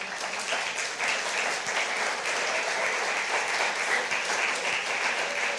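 A church congregation at a London Spanish-language service claps in sustained, dense applause that holds steady for several seconds, with a few faint voices mixed in.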